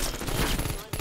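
Gunfire in Call of Duty: Cold War, a rapid dense burst of shots sounding loud and close, filling the whole short moment before a brief dip.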